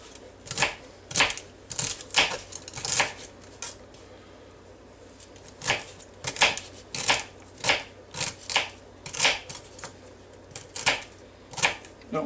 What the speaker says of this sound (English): Now let's chop it up in some pretty small pieces.